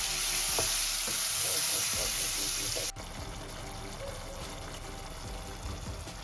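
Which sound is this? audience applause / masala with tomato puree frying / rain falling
masala with tomato puree frying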